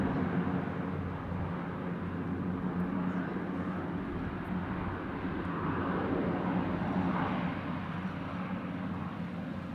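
An aircraft arriving from Abu Dhabi turning toward the north-south runway, a continuous distant engine rumble, steady and broadband with no talking.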